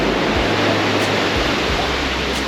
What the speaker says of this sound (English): Those waves look a bit strong.